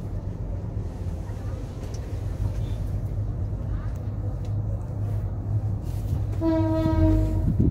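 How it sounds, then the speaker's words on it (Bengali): A passing train at Jadabpur railway station rumbles low and steady beneath street noise, then a loud horn blasts for about a second near the end, with voices faintly audible. "এপাশে যাদবপুর রেল স্টেশন"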